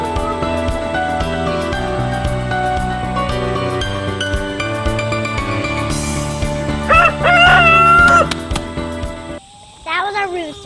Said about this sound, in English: That was our rooster right there.